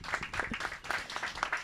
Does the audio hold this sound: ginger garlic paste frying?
no